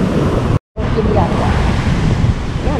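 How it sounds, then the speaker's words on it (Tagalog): Ocean surf pounds the shore during a typhoon, heavy waves breaking under strong wind buffeting the microphone, loud and continuous after a brief cut. "pagdating doon, basag na ang alon."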